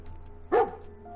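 The dog companion in Fallout 4 gives a single short, sharp bark over a faint, steady game background hum.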